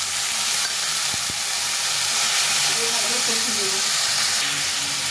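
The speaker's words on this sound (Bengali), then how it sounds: "হলুদ আর লঙ্কা গুঁড়ো দিয়ে একটু জল দিয়ে দেবো" Water poured into a hot pan of frying turmeric and chilli powder with salt, giving a loud continuous hissing sizzle that stays steady throughout, with a couple of sharp taps early on.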